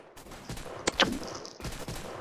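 A beam launcher weapon in Roblox Zombie Attack fires in short synthetic bursts, with a sharp crack, a whooshing zap, and a brief high tone, set against faint game background.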